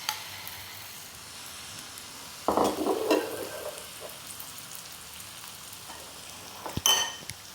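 Eggless bread omelette batter hits a hot pan with a sudden loud sizzle that fades into a gentle steady hiss, followed by a brief clatter near the end.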